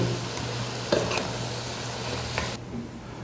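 Beans and potatoes frying with spices in a pan, cooked for a Bengali gulsha fish curry, with a steady close sizzle and a few clinks of stirring before it suddenly quietens near the end.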